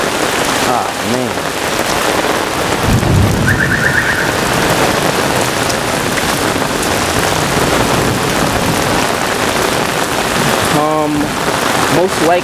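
Torrential thunderstorm rain in Brooklyn, New York hammers down in a loud, constant roar, with a brief car alarm-like warble and a low rumble mixed in, plus faint voices toward the end.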